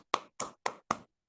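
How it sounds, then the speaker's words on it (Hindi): Four sharp hand claps in quick, even succession, loud and close, as an audience applauds its gurus at a guidelines session, then silence. "जोरदार ताली चाहूंगा साथियों"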